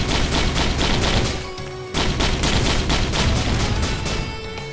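In the video game Risk of Rain, enemies fire missiles in a dense, loud barrage of rapid bursts and booms that continue almost without pause, briefly dipping before resuming.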